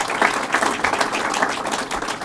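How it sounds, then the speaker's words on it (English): An audience breaks into steady applause at a Westchester County public event, a dense wash of many hands clapping that holds at an even level for a couple of seconds. "So give them a round of applause."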